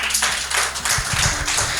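An event crowd applauds its organizers in a dense, close burst of clapping that lasts for about two seconds.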